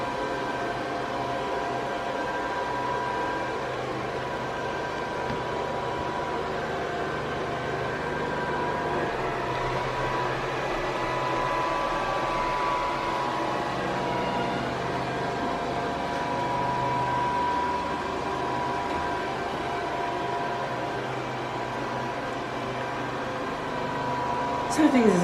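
A DEIK robotic vacuum cleaner with high suction and a HEPA filter, running as a steady, even whirring hum for a long stretch, with a slight bump in loudness at the very end.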